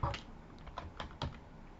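Soft, slightly muffled typing on a computer keyboard while entering a search on Facebook, a handful of scattered keystrokes with small gaps between them.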